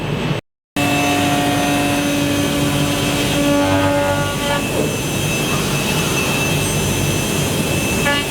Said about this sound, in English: We use a computer controlled CNC machine which cuts out the holes in exactly the right spot each and every time